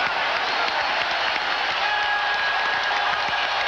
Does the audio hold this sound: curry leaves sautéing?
no